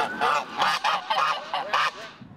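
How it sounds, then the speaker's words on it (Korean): Two geese honk back and forth in a city park on a mild spring day, a series of loud, nasal calls in quick bursts, close by and alone with no talking. "거위 한 쌍이 공원에 나와 봄 기운을 만끽합니다."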